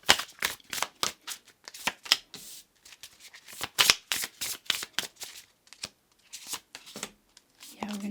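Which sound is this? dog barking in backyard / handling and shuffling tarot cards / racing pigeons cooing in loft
handling and shuffling tarot cards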